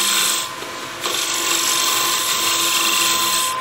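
A skew chisel scrapes a spinning wooden hollow form on a lathe, a continuous high, harsh whine with a steady tonal hum from the machine, close and loud, briefly easing near the start.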